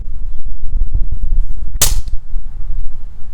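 A sword blade striking a riveted Norman spangenhelm helmet in a destruction test, one sharp loud metallic crack over a low rumbling background, close and brief.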